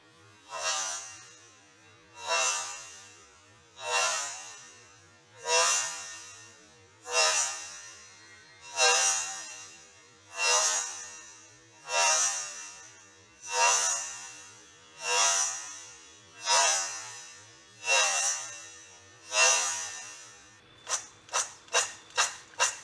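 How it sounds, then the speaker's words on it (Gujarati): Crispy fried corn rattles and rustles as it is tossed and mixed in a bowl, about thirteen evenly spaced dry shaking bursts followed by a quicker run of short tosses at the end. "આવતા અવાજ ઉપરથી ખ્યાલ આવે છે ને કે આ કોર્ન કેટલા ક્રિસ્પી બન્યા હશે."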